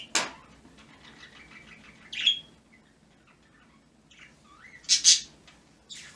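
A small bird chirps in a few bright, separate bursts, one near the middle and a quick pair later, with quiet gaps between them.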